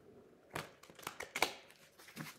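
A deck of cards is riffle shuffled at close range, giving a few quick rustling flutters and soft slaps in a quiet room.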